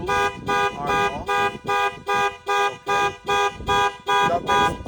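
A 2021 Range Rover Sport alarm blares in a steady pulsing pattern of loud, regular horn-like honks repeating about twice per second, close and alone with no talk.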